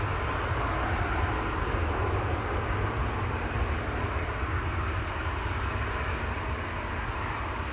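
A Ryanair Boeing 737-800 jet rolls toward the runway at Amsterdam Schiphol Airport, a broad, steady engine roar heard from a moderate distance that stays constant and loud with no talk.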